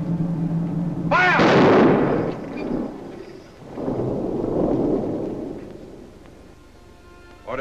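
A firing squad volley in a 1940 western bursts out as one heavy boom that rolls into a long rumbling echo, with a second swelling rumble after it. The sound is loud and dominates the scene with no clear talk over it.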